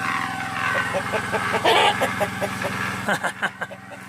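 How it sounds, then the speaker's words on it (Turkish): Rooster crowing beside a chicken coop near an old dog kennel, a nearby call rising over clucking hens and outdoor background noise, with a few sharp knocks toward the end. "Horoz da bağırıyor."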